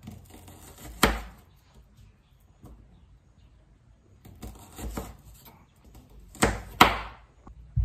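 A knife slices a sweet Awaji Island onion thinly on a cutting board: a handful of sharp, separate cuts spaced by quiet pauses, with two strokes close together near the end.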